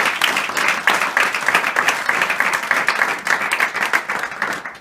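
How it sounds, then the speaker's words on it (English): An audience claps for a student advisor at a university student government election announcement. Many hands beat in an uneven, lively patter of close, distinct claps that rise and dip throughout. "Let's give her a round of applause as well."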